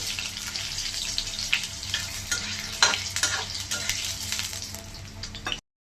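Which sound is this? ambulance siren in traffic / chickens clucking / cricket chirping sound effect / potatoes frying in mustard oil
potatoes frying in mustard oil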